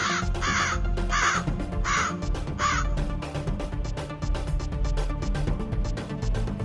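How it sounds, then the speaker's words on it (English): Several crows caw in a children's storybook scene, a run of five evenly spaced calls near the start over a busy, steady background of music and effects. "many crows started coming down to peck at them all"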